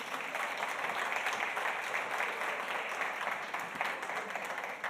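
Applause from the audience at a financial cybersecurity panel as a panelist is welcomed, steady dense clapping from a roomful of people filling the whole stretch at even volume.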